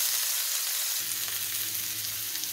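Food sizzles and fries steadily in a hot pan on a stovetop, a continuous close crackling hiss, with a low hum of the burner joining after the first second; no one speaks.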